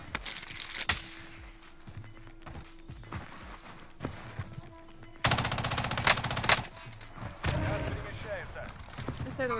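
Rapid bursts of gunfire from the video game Warzone, sporadic sharp shots early, then a loud dense volley of automatic fire in the second half, with players talking over the game.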